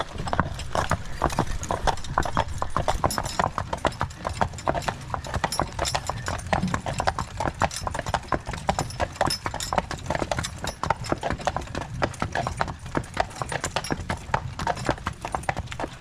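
Hooves of a draft cross team clip-clop steadily and close by for the whole stretch, a dense, even rhythm of hoofbeats as the horses are driven, with no talk over them.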